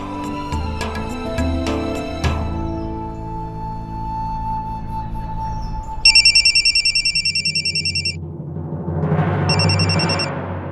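A telephone bell rings in two trilling bursts after some tinkling chimes and a low hum, with a short pause between rings.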